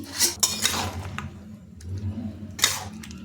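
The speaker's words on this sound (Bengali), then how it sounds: "এখন ঢাকাটা খুলে নিচ্ছি" A lid being lifted off a pot of tomatoes simmering for homemade tomato sauce: a short burst of metallic clanks, a quiet pause, then another clatter near the end, all close up.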